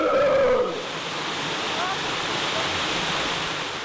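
A waterfall rushes in a steady broadband roar, close and continuous, with a brief tonal sound at the very start.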